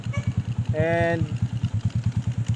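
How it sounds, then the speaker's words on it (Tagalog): A Nice 110 motorcycle engine with water in its carburetor idles with an uneven, pulsing sputter in close range, while someone speaks briefly over it near the start. "namumutok-mutok na po ito kasi nagkatubig na siya"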